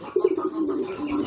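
A pigeon being trained gives a short, low cooing call, close and clear, with a couple of sharp pulses at the start and no talk.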